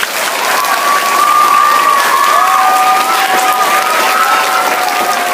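Steady audience applause for student representatives seated on a stage at a school inauguration, dense and continuous throughout with scattered cheers and a faint background voice.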